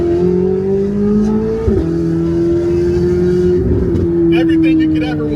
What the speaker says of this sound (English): time for you to hear exactly what the C8 Z06 sounds like flying by.